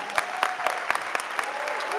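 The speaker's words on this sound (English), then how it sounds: "Let's give Gary another round of applause" Applause from an audience at a Bitcoin conference, moderately loud and steady, with a few sharper claps standing out in the crowd's clapping.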